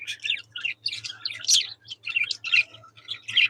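A budgie chatters and warbles nonstop in quick, high chirping bursts, close and fairly loud, over a faint low electrical hum.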